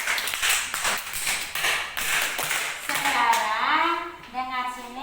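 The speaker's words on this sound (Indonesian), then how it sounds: "Tepuk tangan dulu." Schoolchildren in an Indonesian classroom clap their hands together in a quick burst of sharp claps, followed by young voices and a teacher talking.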